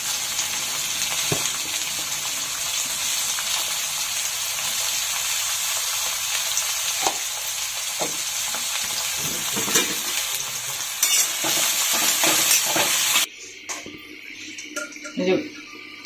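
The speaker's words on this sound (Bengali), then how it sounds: "সামান্য একটু হলুদ আর নুন দিয়ে একটু ভেজে নিব।" Vegetables for a mung dal frying in oil with a little turmeric and salt, a steady close sizzle with occasional stirring clicks, easing off sharply near the end.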